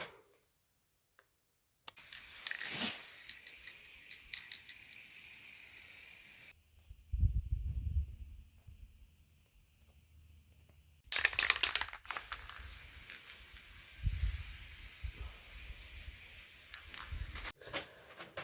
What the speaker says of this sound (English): then spray paint exactly what I need